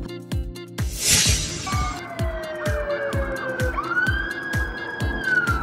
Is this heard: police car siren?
yes